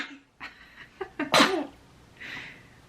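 A newborn baby's small, close sneeze preceded by a few quick breaths, followed by a soft breathy exhale; no talking.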